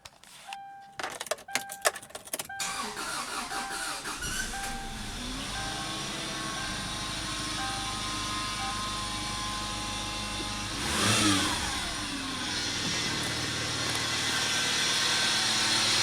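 A Subaru engine, just back together after a head gasket and timing belt job, cranks briefly amid clinks, catches and settles into a steady close idle, with one louder swell of revs partway through.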